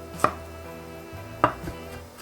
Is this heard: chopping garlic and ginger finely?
yes